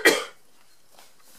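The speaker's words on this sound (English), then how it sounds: "I'm going to have to cough again." A single short cough bursts out near the start, followed by near silence and a faint breath or rustle at the end, quiet and close.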